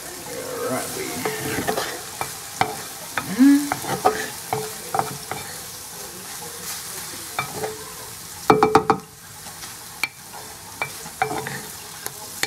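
Scrambled eggs sizzle in a frying pan while a utensil scrapes and stirs them. The frying hiss is steady and close, broken by scattered clicks and knocks against the pan.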